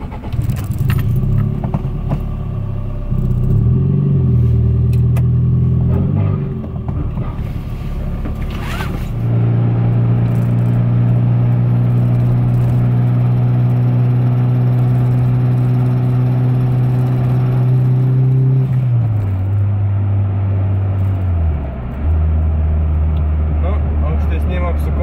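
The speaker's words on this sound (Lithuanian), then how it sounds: "Važiuojam atgal." A car driving back along the road after refuelling, its engine note loud and close with a steady low drone that shifts pitch at gear changes, plus a few rattles and clicks inside the cabin.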